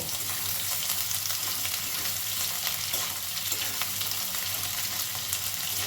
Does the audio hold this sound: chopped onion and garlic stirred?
yes